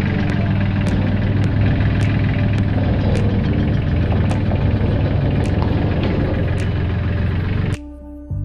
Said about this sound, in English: So I think forks under the front, and I'll just use the tractor.